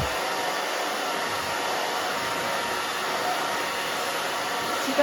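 A hair dryer blows steadily and loudly at close range while hair is dried back with a round brush, a constant whooshing hum with no break.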